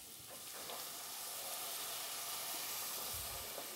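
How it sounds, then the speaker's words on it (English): Port wine poured into a deep pan of apples and sausage to deglaze it releases a steady, hissing sizzle of steam that carries on evenly from start to end. "So we're going to get a little port wine in there to deglaze that pan."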